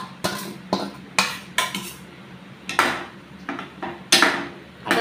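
Chicken goes into a pot of simmering water for butter chicken and is stirred, with a spoon clanking sharply against the pot in irregular bursts and no talking.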